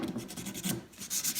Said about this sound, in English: Finish polishing those up, get them nice and smooth, using 220 grit.